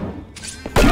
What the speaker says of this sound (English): Oh, weapon destroyed.